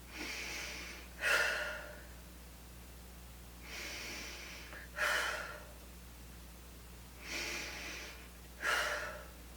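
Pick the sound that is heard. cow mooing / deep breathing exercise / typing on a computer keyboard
deep breathing exercise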